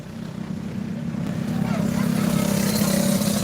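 Kid kart engines race around the Lawrenceburg Motorcycle Speedway dirt track, a steady buzzing drone that grows louder as the karts approach, with a track announcer talking over it.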